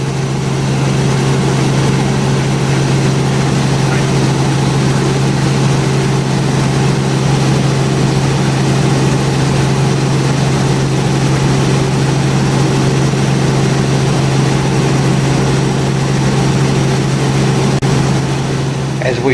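A small aircraft's engine drones steadily in flight over mountain wilderness, a loud, constant, even hum that fills the cabin without letup from start to finish.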